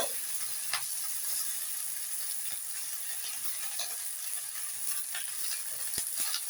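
Eggplant and onion scapes sauté in a pan for a puti fish chorchori with a faint, steady sizzle and a few soft stirring clicks throughout.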